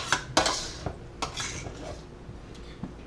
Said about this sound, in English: So I'm going to use a slotted spoon and drain them out.